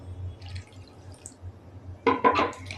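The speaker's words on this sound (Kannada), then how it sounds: "ಆನಂತರ ಸ್ವಲ್ಪ ನೀರನ್ನು ಹಾಕೊಳ್ಳೋಣ." A short splash of water poured into flour while mixing dough for aloo paratha, a brief wet burst near the end after quiet room hum and faint clinks.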